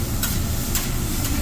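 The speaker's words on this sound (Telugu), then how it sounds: "ఇంకో సైడ్లో షింప్ గ్రిల్ అవుతుంది, వెజ్జీస్ గ్రిల్ అవుతుంది. సో ఆ లోపల రైస్ని ఫ్రై చేసుకుంటున్నారు." Fried rice and shrimp sizzling on a hibachi grill at a Japanese restaurant, with a continuous close sizzle and sharp metal spatula scrapes recurring about every half second.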